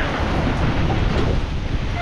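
Strong typhoon wind roars as a steady, dense rush of noise with constant buffeting against the microphone, close and loud throughout, with no clear breaks.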